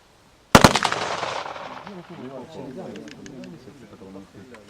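Gunfire at a self-defense training range in the Cherkasy region, a sharp, loud close burst of rapid shots that rings out and decays, followed by people talking.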